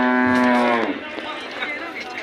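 A milking buffalo at a cattle market lets out a single loud, low moo nearby, followed by faint background murmur and bustle.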